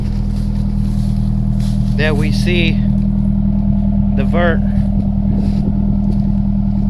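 A Nissan S13's engine idles steadily and loudly up close, a constant low drone, while a person talks briefly over it.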